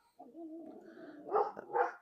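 A dog on a small lakeside property barks and yelps at kayakers paddling past, a few sharp close barks following a longer whining vocal, with no talk over it.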